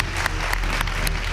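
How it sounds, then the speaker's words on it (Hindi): An indoor audience at a game-show deal scene applauds in a dense, steady wash of many hands clapping, loud and continuous. "भाई जितनों को लगता है ना डील कर लेनी चाहिए तालियां बजा के बताएं।"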